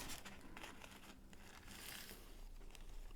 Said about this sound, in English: now you're going to do the same thing with the larger petals, starting with folding them in half